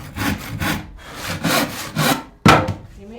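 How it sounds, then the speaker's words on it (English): A handsaw cuts through a wooden batten during a narrowboat conversion, with close, rhythmic back-and-forth rasping strokes, about five even passes, ending in a sharp knock. "I was cutting some batten"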